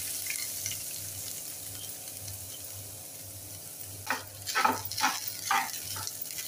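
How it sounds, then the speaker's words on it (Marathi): Fresh grated coconut roasts in oil in a pan with a soft, steady sizzle. Near the end come several louder scraping stirs, and a low hum sits underneath. "आता आपण ओलं खोबरं भाजून घेऊया।"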